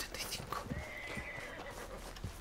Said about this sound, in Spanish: Ahí está el caballo súper arterado